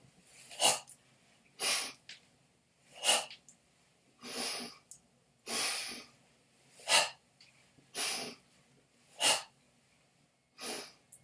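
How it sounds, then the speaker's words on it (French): Forceful rhythmic breaths during an exercise routine, about nine sharp nasal exhales and inhales in a steady cycle, close and fairly loud with no talking. "Inspire, expire, inspire, expire."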